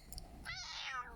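A cat gives a single drawn-out meow, rising and then falling in pitch, clear and fairly close against a quiet indoor background with no talking.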